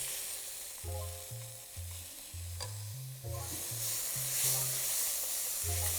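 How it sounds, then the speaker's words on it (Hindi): Yogurt spooned into hot ghee for a soya keema sizzles steadily in the pan, a close, continuous frying hiss, while short low tonal thumps and scraping stir sounds come and go over it. "अब हम डाल रहे दही।"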